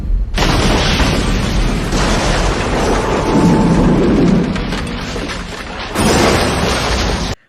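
A thunderstorm sound effect of loud, steady heavy rain, with deep rumbling thunder swelling in the middle and a sharp new burst near the end before it cuts off abruptly.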